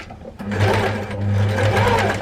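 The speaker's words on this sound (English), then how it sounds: "But it depends on the sewing machine." A sewing machine stitches a quilt block, its motor starting after a brief pause and then running in a steady close whirring hum with slight surges in speed.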